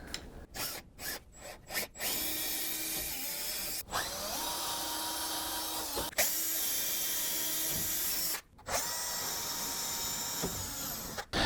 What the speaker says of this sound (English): These will be just the pilot holes for my screws to go into